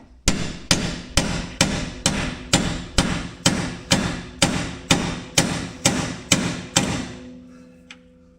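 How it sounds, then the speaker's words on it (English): About fourteen sharp metal hammer taps ring out at an even, brisk rhythm while stuck bolts are knocked out on a Polaris Trail Rider 570, then the strikes stop. "That's why you tap them, because they get stuck."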